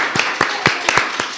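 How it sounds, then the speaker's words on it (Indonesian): A handful of separate hand claps from a small school audience during a breakout session, sparse and uneven, about seven distinct slaps over a second and a half. "Tepuk tangan dong"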